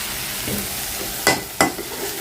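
Green chillies fry in a curry masala with a steady, hissing sizzle. Two quick spatula scrapes against the pan break through near the end of the short burst.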